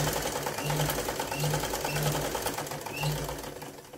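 A sewing machine stitches palazzo pants in quick repeated bursts of steady mechanical whirring, close and moderately quiet, with short pauses between runs.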